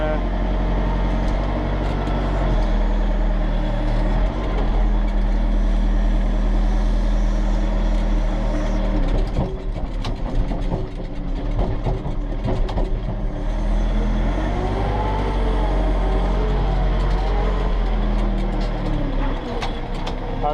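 A 1992 JCB 3CX backhoe digger without four-wheel drive labours through deep ruts, its diesel engine droning loud and steady throughout, with rattles and bumps as it lurches over the rough ground.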